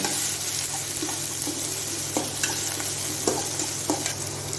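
Onion, tomato and green chilli sauté in a pan for a quick kuzhambu, with a continuous soft sizzle and repeated scraping strokes of a spoon stirring through the mixture.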